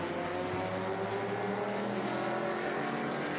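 Porsche and Ferrari race cars at a racing event, giving a steady, droning engine roar with a sustained pitch throughout and no distinct pass-by.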